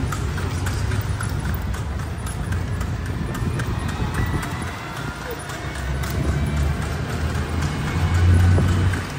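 Rhythmic clip-clop of a horse's shod hooves on a street at night in Vigan, steady and moderately close, with people talking and traffic noise around it.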